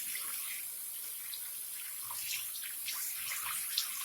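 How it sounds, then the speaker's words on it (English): Tap water runs steadily into a bathroom sink while someone rinses their face, a continuous close splashing hiss with small surges and no talking. "Let me rinse my face off."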